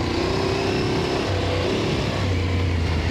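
Dirt bike engine held on throttle while riding a single-track trail in the White Hills, a loud, steady close-up motor drone with wind rush and no pauses.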